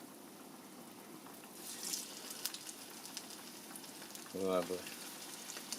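Sardines frying skin side down in oil in a pan, giving a faint steady sizzle under the room noise with a few brighter crackling bursts, and a voice speaking briefly near the end.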